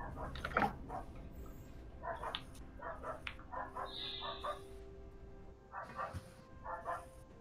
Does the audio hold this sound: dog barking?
yes